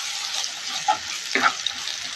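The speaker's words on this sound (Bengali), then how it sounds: "ভাজা হয়ে গেছে আমার পেস্টটা" Crushed ginger, garlic and green chili paste frying in a pan gives a soft, steady sizzle with a couple of brief stirring clicks, close and alone.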